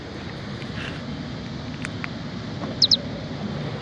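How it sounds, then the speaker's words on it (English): Locking a Rivian R1T electric pickup with its key fob gives two quick, bright, bird-like chirps in rapid succession, heard against faint outdoor wind. "It's a bird chirp when you lock the truck with the key fob, but only with the key fob."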